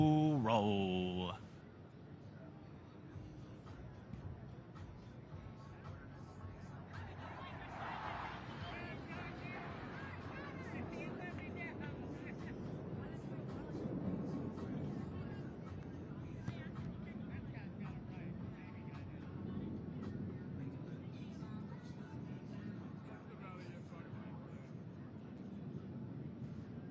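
F-16 Thunderbird jet flies over doing a slow roll at an air show, a broad steady roar that swells and holds for a long stretch, heard from a distance, with a short burst of other sound at the very start.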